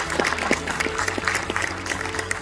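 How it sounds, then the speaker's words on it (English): Audience clapping at an organ donation lecture, a steady dense patter of many hands held at an even level for the whole stretch with no voices on top. "If we can have a round of applause for them."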